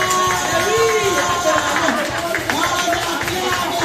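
A church congregation loudly acclaims and cheers for Jesus, a dense crowd roar with raised voices and singing tones filling the space continuously, no single voice standing out.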